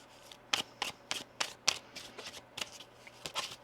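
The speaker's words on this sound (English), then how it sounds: "One more shuffle here." Tarot cards are shuffled in a quick series of crisp riffling bursts, about a dozen rapid flicks close up, with no talking.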